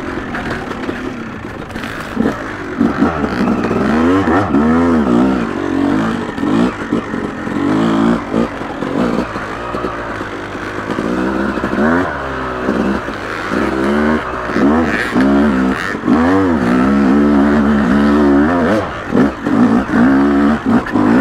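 Yamaha YZ250 two-stroke dirt bike on a trail ride, porting tuned for bottom power, its engine revving up and down in loud, close, rising and falling pulls with brief throttle drops.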